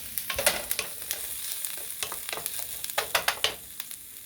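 Onions frying in a pan, with a steady close sizzle broken by irregular scraping and clacking as they are stirred.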